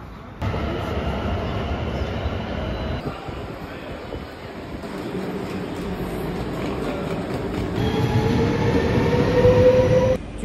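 A train rumbles steadily at a station, its drone rising toward the end with a faint high squeal of wheels, loud and close.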